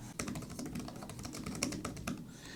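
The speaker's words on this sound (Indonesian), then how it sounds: "Oke, jadi untuk experience ngetiknya enak teman-teman di Books Tab Ultra ini." Fast, light typing on the keyboard cover of a Boox Tab Ultra e-ink tablet, a quiet flurry of close key clicks.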